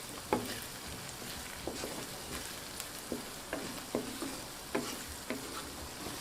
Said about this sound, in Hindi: अब इसमें ½ टीस्पून हल्दी डाली और इसको हल्का सा भून लेंगे।